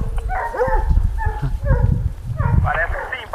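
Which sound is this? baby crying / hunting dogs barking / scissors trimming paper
hunting dogs barking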